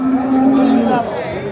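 A loud, close, drawn-out moo rises and falls from cattle at the Erragadda buffalo market in Hyderabad, where Jafarabadi and Murrah animals are sold.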